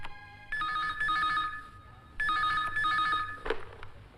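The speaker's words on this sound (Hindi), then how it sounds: "अच्छा चौहान सर, आपके लिए फोन" A telephone bell rings in two loud bursts of repeated electronic trilling, separated by a short pause and followed by a brief clatter, with no talking over it.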